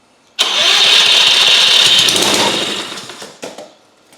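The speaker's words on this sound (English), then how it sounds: "if I pull the bail down and I push the plunger on here, this is going to crank over" A small engine, started by pulling down the bail and pushing a plunger and fitted with a faulty control module, cranks once and catches. It runs loud and steady for about three seconds, then winds down with a brief sputter.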